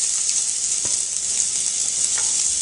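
Matchstick-cut burdock root sautés in organic olive oil in a hot pan, giving a steady, dense sizzle and crackle with no voices.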